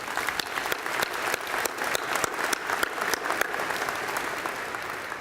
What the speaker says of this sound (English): Let's give Ron a well-deserved round of applause